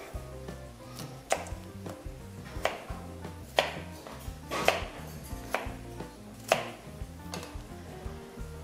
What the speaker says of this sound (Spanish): teniendo ya nuestras papas peladas, para acelerar un poco nuestra cocción, las vamos a partir en 4.